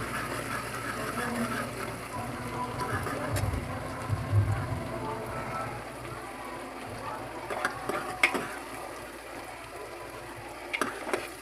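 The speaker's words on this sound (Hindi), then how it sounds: "प्याज को हम अच्छे से भून लेंगे फ्रेंड्स।" Chopped onions fry in hot oil in a pan for a goat meat curry, giving a steady, close crackling sizzle with occasional louder pops and faint stirring scrapes.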